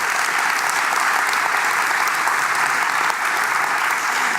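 A seated audience at a talk about the circular, wasted city breaks into sustained, dense applause that holds steady and loud throughout, close and unbroken.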